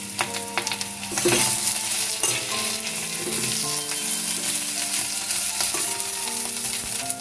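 Ginger and green chili paste with cumin powder fries in a pan, a loud continuous sizzle broken by scraping stirs, with a faint tonal hum running underneath throughout.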